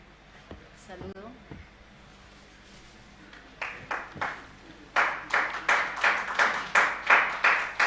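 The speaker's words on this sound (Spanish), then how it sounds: "Por favor, vamos a recibirlos con fuertes aplausos." Scattered claps grow into steady rhythmic applause from a church congregation at a prayer service, rising in loudness over several seconds as people speak underneath.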